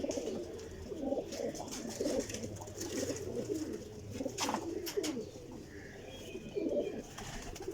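A Sialkoti pigeon coos in soft, repeated low murmurs, fairly close, with steady background noise and a few brighter bird chirps mixed in throughout.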